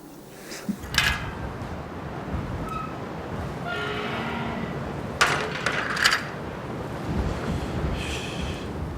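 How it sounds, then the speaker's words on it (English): Mistral wind blows across the Var region of Provence, France, as a steady, rough rush and buffeting rumble against the microphone, with a few brief louder gusts and faint distant noises. "The Mistral wind is blowing, a permanent feature of Provence."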